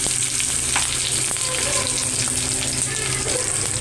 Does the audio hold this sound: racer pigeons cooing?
no